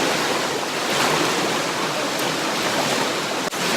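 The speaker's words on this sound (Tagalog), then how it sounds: "Okay, tumatawid kami ng batis." Creek water rushes steadily as people wade across a stream on the way to a waterfall, a close, loud broadband flow with a short dip near the end and no clear talk.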